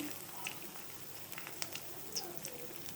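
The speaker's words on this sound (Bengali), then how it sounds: "এখন আমি সর্ষের তেল দিয়ে দিচ্ছি" Sliced onions frying in a pan with mustard oil being added for a mustard hilsa dish, a soft continuous sizzle dotted with small crackling pops, fairly quiet and close.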